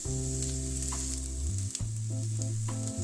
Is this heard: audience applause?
no